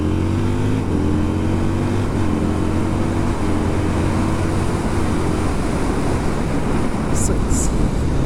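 Husqvarna Nuda 900R motorcycle fitted with a Heal Tech quickshifter, engine droning loud and close as it shifts up through the gears, the pitch of its harmonics stepping down at each quick change, with wind rushing throughout.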